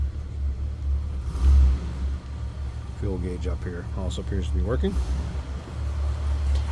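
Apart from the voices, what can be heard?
1978 Cadillac Eldorado 425 V8 engine running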